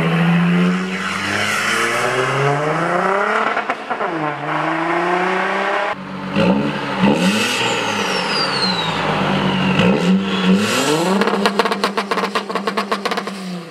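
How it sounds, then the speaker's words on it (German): An Audi diesel fitted with a modified exhaust revs up and down repeatedly, loud and close, its engine note rising and falling through several sharp throttle blips with no talk over it. "Wir haben dort die Abgasanlage verändert und man hört dann schon, was man aus dem Diesel soundtechnisch rausholen kann."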